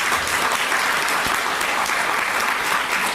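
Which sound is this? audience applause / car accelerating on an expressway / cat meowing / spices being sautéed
audience applause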